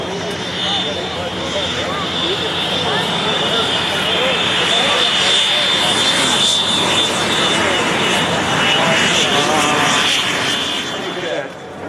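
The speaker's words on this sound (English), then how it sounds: "This is a little old airplane that was designed to get you from here to Kent, or you get back up here." A small old non-aerobatic airplane flies past at an air show, its engine drone holding steady and loud for about twelve seconds while a commentator talks over it.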